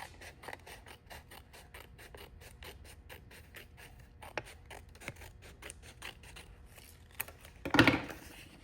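Scissors snip along the grid lines of an IOD transfer sheet in a quick series of close, crisp cuts, followed by a louder crinkle of the sheet near the end.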